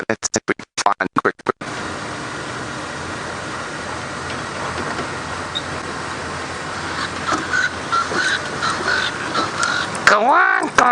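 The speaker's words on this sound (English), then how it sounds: "I did hear a bird that I'm missing for my February list making an incredible racket in this area" A bird making a loud, harsh racket during a safari drive, raspy crow-like caws repeating near the end over a steady vehicle rumble, with some clattering handling noise at the start.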